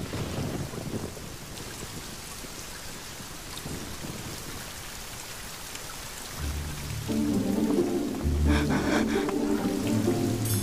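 Steady rainfall pours down, with a low thunder-like rumble, filling a water vat; the hiss holds throughout, and background music rises in over the last few seconds.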